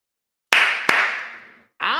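Two sharp hand claps ring out close and loud in quick succession, each trailing off in a long echoing decay, followed by a brighter burst of noise near the end.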